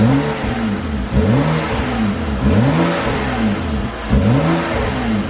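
A BMW F30 335i engine, stock before an intake install, revs repeatedly in close, loud sweeps, each rise and fall about a second apart, four or five blips in a row with no talking.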